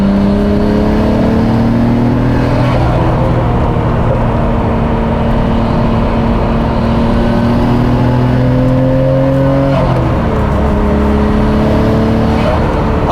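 A Nissan Skyline BNR34/BCNR33 fitted with an APEXi power intake air filter revs steadily, its engine note climbing in pitch before dropping and rising again, loud and close throughout.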